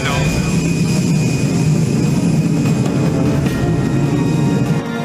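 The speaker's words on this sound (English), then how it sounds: "It's a perfect liftoff." Roaring rocket engine at liftoff in a Power Rangers Turbo space launch scene, a dense, steady low rumble held loud and unbroken throughout, with voices faintly beneath.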